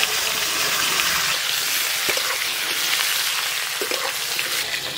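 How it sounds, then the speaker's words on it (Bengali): Cut mango pieces hit hot oil with black cumin, bay leaf and dried chili tempering, giving a loud, steady close sizzle and frying hiss throughout, with a few stirring scrapes and no talk. "এবার ফোড়নে কেটে রাখা আম দিয়ে দেব"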